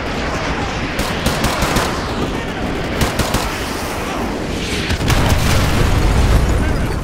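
Artillery strike in Call of Duty: Modern Warfare 2 Remastered, a neighborhood battle where scattered sharp blasts and booms break over dense continuous rumbling, growing heavier toward the end, with no clear speech.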